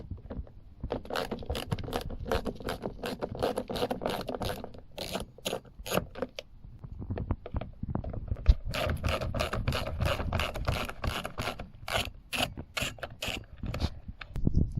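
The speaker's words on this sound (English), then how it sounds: "Next, undo the two screws, one here and one there, the T25s." Two T25 screws come out of a Smart car wing mirror, giving a long run of rapid, scratchy ratcheting clicks and scraping at close range, loud and steady with a brief lull midway.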